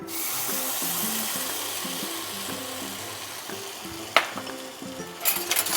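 Spiced buttermilk goes into a pan of potatoes and onions fried until red, setting off a steady sizzle with stirring scrapes, a sharp splash near the end and a louder burst of bubbling after it.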